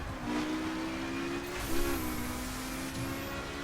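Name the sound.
BMW M4 engine accelerating in the video game The Crew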